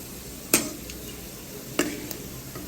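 Potato pieces frying in hot oil in a pan for chicken biryani, with a faint, steady sizzle. Two sharp utensil knocks from stirring stand out clearly above it.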